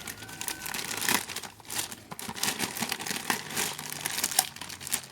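Plastic packaging around a motorcycle radiator crinkles and tears steadily as the box is unwrapped, close and continuous with irregular rustling bursts and no voices.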